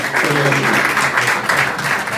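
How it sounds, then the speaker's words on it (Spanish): Loud, close audience applause at an award ceremony, a dense continuous wash of clapping that holds steady for the whole short stretch with a faint voice underneath. "Un segundo aplauso, por favor, para Santiago de García."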